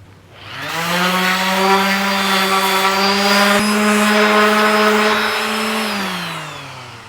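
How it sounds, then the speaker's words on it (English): A random orbit sander whirs steadily and loudly on the surfaces of a vintage Stemmler Tartar bow, spinning up, holding a constant pitch for about five seconds, then winding down. "we'll run the random orbit on all the surfaces that we can"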